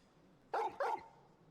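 A dog in the video game Final Fantasy XVI gives two quick, close barks in succession, loud against a quiet background with no talking.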